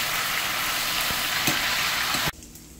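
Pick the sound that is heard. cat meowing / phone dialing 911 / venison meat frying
venison meat frying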